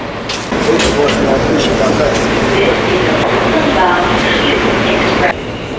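A New York City subway train rumbles steadily with broadband roar and rattling, a burst of brakes or screech near the end before the noise drops off.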